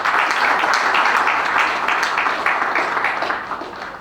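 A crowd at an international conference on climate change breaks into sustained applause, dense overlapping claps that stay loud and steady before easing slightly at the end.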